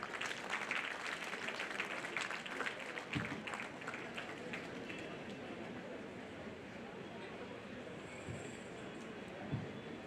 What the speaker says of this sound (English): Guys, offer him a big round of applause.